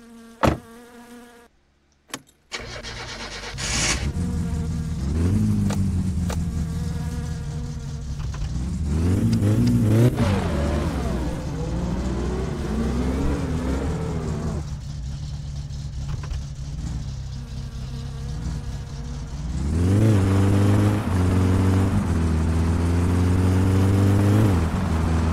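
Engine of a car driven in the video game My Summer Car, a steady droning whine that rises and falls as it revs and accelerates, loud and continuous for most of the stretch with no talking.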